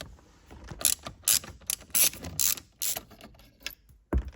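A ratchet spins out Torx bolts from a steering wheel on an NSX, giving quick bursts of sharp clicking separated by brief pauses, close and fairly quiet.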